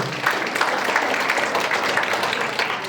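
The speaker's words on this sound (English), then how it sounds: "Give her a big round of applause." A school crowd applauds a newly chosen vice leader of Karnali house, with steady, moderately loud clapping from many hands holding throughout.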